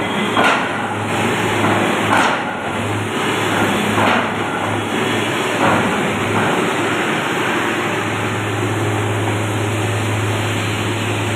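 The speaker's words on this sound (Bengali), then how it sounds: "দেখুন বোরিং করছে" A borehole boring machine drills, giving a loud, continuous mechanical grind with a steady low hum and a shrill high whine, plus repeated knocking thumps every couple of seconds.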